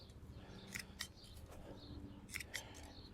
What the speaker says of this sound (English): So what I'm going to do is trim this mum down just halfway.